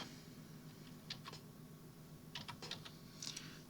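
Quiet computer keyboard typing of a short word in graphics software, several brief bursts of rapid keystrokes separated by pauses over a faint room hum.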